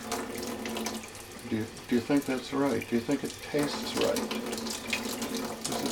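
Tap water runs steadily into a bird bath, close and continuous, while a person talks over it in short questions.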